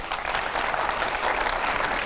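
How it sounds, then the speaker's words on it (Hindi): A studio audience at a televised Hindi political debate greets arriving guests with dense, loud, continuous applause that carries on throughout. "सुप्रिया जी और सुधांशु जी स्टूडियो में आ गए, जोरदार तालियां हो।"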